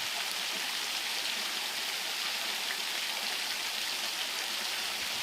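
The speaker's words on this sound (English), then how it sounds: "the waterfall is a mere trickle" Steady, gentle rush of a small waterfall reduced to a trickle after little rain, in woods near Humbie Church, Scotland; a light trickling hiss that continues evenly throughout with no voices.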